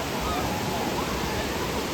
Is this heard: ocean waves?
yes